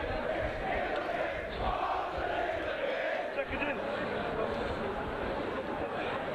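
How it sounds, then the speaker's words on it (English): Crowd noise at a cold-weather rugby match between Oxford and an opponent, a steady murmur of many voices with rising shouts and chatter, spread out and continuous rather than a single sharp cheer. "Great to hear the crowd"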